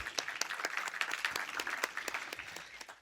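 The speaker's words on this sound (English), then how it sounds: "Let's give them all a little round of applause." A small audience in a theater gives the student theater staff brief applause, a steady patter of many hands clapping for about three seconds at moderate distance.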